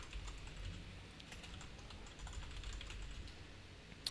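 Soft, quiet typing on a computer keyboard, a steady patter of light key clicks at a moderate pace over faint room hiss, with no voices.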